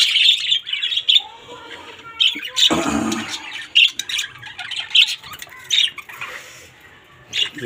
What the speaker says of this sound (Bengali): খাঁচার এই হাড়ি থেকে এই হাড়ির পাখির বাচ্চাকে বের করবো